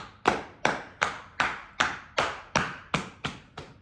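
Hands tapping out a steady rhythm, about ten crisp, evenly spaced slaps, each sharp strike decaying quickly, close and clear with no talk.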